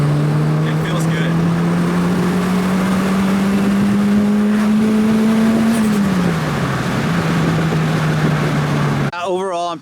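Tuned Toyota Celica GT-S turbo engine pulling hard under acceleration, a steady loud drone rising slowly in pitch, then dipping briefly as if on a shift before settling, with a short burst of other noise at the very end.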